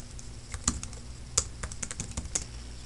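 Quick, light keystrokes on a computer keyboard tap out an irregular burst of typing, close and fairly quiet, with no voices.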